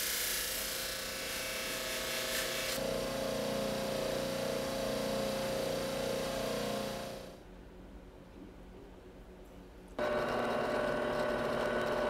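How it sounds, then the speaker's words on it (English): A power drill whines steadily while boring a pin hole through a knife handle, cuts out briefly into quieter background, then starts up again loudly near the end. "marking a hole in the handle, drilling it so I could get the brass pin in there"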